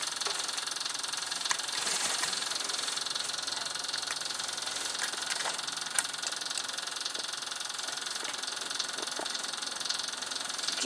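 A diesel tractor engine idles steadily, a continuous mid-range rumble with faint irregular knocks and rattles, heard alone without talk.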